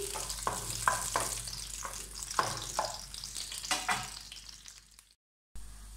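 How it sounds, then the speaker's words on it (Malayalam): Cashew nuts frying in ghee while a spoon stirs them, a quiet crackling sizzle with repeated scraping strokes, close but soft, cutting briefly to silence near the end. "കാഷ്നട്ട് നന്നായിട്ട് ഫ്രൈ ആയിട്ടുണ്ട്"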